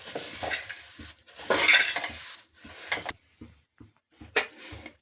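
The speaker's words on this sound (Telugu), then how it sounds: "బాదం, జీడిపప్పు వేసుకుని కాసేపు ఫ్రై చేసుకుందాం" Cashews and almonds fry lightly in a pan while a spoon stirs them, with clinking metal scrapes against the pan in short irregular bursts and a faint sizzle between.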